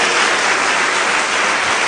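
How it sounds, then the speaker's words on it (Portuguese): Church congregation applauding in praise of Jesus during a Portuguese-language sermon, a dense, loud, steady wash of clapping with no voices. "Dê uma salva de palmas a Jesus."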